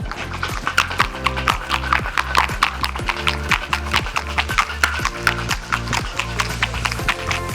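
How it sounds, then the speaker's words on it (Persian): Ice rattles in a cocktail shaker while a Hot Sunrise drink with orange juice is shaken, a fast, steady rhythm of sharp clacks over background music. "شروع میکنیم به شیک کردن."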